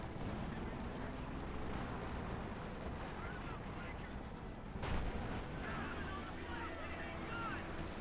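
Tank cannon fire in Company of Heroes 2, a Jagdpanzer hitting a veteran Sherman, with one sharp blast near the middle over a dense, constant wash of battle rumble and gunfire, under steady commentary.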